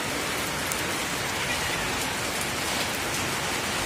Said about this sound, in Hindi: बारिश ही लगी हुई है